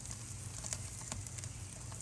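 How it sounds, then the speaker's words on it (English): Soft, steady sizzle of a cheese appetizer cooking in an Ooni pizza oven, a faint continuous frying hiss with small pops and crackles throughout. "sizzling on the top, looking great"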